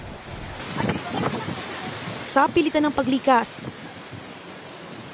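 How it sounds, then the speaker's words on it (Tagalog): Strong Super Typhoon Ofel wind and steady rain roar across the whole stretch as a broad, loud rush, while a man and then someone speak over it. "malamang makarindi na ang malakas na hampas ng hangin habang walang patid ang ulan"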